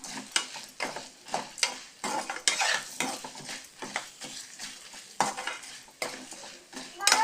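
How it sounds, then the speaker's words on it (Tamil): Radish frying in sesame oil over a medium flame, stirred with a utensil that scrapes the pan in rhythmic strokes over a soft sizzle, close and without speech. "மீடியம் ஃப்ளேமில் வச்சு நம்ம நல்லா அதை ஃப்ரை பண்ணிட்டுருக்கலாம்."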